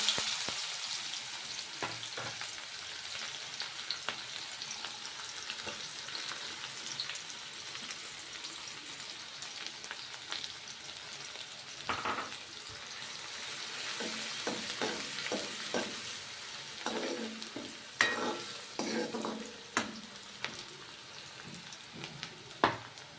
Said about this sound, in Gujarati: ડુંગળીને આપણે ગોલ્ડન બ્રાઉન કરીશું